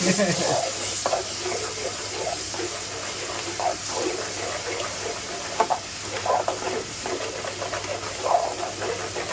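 Turmeric being stirred into food in a pan over a steady background sizzle, with soft scraping stirs repeating at irregular intervals.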